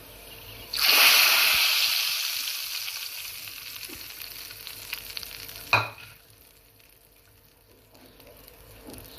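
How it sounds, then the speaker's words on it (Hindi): A loud burst of sizzling as a tempering of spices with four whole red chillies hits hot oil for sabut masoor dal, crackling strongly then fading, with a sharp clatter near the end. "और अब हम तड़का लगाएंगे इसको।"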